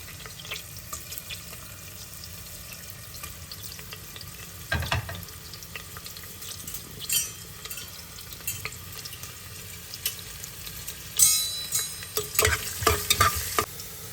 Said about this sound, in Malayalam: ചൂടായ എണ്ണയിലേക്ക് ജിഞ്ചർ ഗാർലിക് സ്ലൈസസ് ചേർത്ത് ലൈറ്റ് ബ്രൗൺ ആകും വരെ ഇളക്കുക